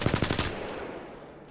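An R-301 rifle hip-fired in Apex Legends, a rapid burst of about six or seven sharp, loud shots that trails off into a fading echo.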